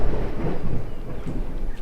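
Thunder in the Disney Dreamlight Valley video game, a loud, dense rumble that rolls continuously through the whole moment with a rain-like wash on top.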